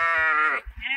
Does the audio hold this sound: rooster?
no